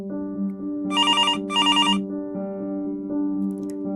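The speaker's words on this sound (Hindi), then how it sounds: "रोहन का फ़ोन था।" A telephone rings for an incoming call: two short electronic ring bursts, each about half a second long, over a steady sustained tonal backdrop, close and clear, with no talking.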